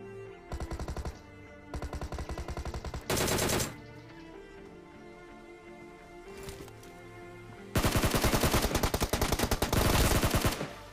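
Automatic gunfire in the BGMI battle royale mobile game, with several rapid bursts of shots, a short pause, then a longer, louder sustained burst near the end, over a quiet game background.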